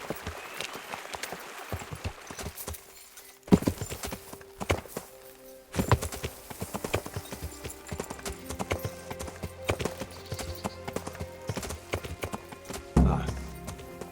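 Rhythmic clip-clop of horse hooves in the video game Kingdom Come Deliverance, steady and fairly close, with occasional heavier thumps and a brief burst of sound near the end.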